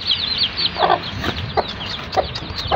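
Chickens cluck in short, scattered bursts, fairly close, over a steady outdoor background with higher chirping birds.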